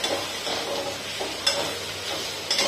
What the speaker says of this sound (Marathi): हळद, हिंग छान परतून घ्यायचं आहे सगळं आणि भाजी टाकून घ्यायची आहे